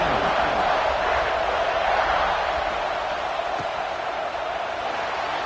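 Stadium crowd in a college football video game (CFB26) as a team prepares to kick off: a dense, continuous roar of massed voices, loud and steady throughout, with no distinct single voices.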